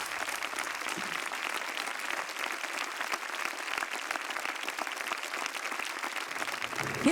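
A large audience at a Hungarian virtuoso talent-show semi-final rises in a standing ovation, a dense, steady wash of applause that holds evenly throughout, with faint cheering mixed in.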